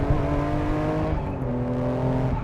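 A 1000 HP Nissan R34 Skyline GT-R engine revs loud and close, a sustained, harmonic-rich roar that holds steady throughout with no voices.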